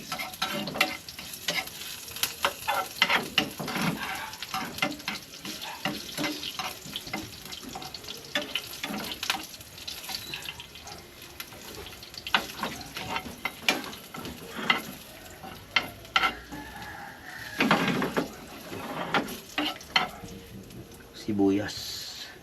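Garlic dropped into a hot pan fries with a crackling sizzle under repeated spatula scrapes and stirs, while a person talks over the cooking.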